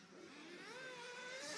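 A race car at a 6-hour team endurance event accelerates up the straight, its engine note faint and distant, rising in pitch as it revs through the gears.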